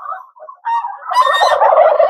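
Farmyard turkeys gobbling loudly and close by in winter, a short rising call followed by a rapid rattling gobble, with no talk over it.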